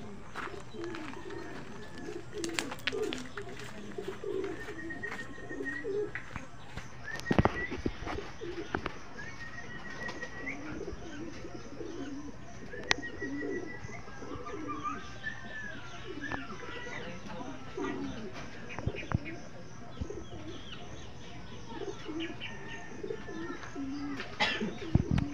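Pigeons cooing in soft repeated low calls around a loft at a club training session, with scattered wing flaps and clatter and occasional talk nearby.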